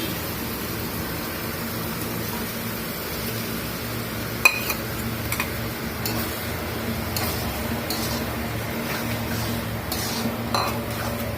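Beaten egg is stirred with snake gourd in a pan, a spatula scraping and clicking against the metal in scattered strokes over a soft, steady background hum.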